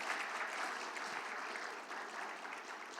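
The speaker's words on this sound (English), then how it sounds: "a huge round of applause, please, for our wonderful door and security and our AV crew" Convention panel audience giving a steady round of applause, a dense patter of many hands clapping at a moderate distance, faint and even throughout with no talk over it.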